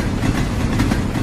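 An approaching train in the Sakura School Simulator video game, heard as a loud, continuous low rumble with a steady mechanical roar throughout the brief moment.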